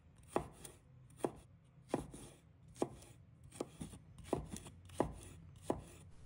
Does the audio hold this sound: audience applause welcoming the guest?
no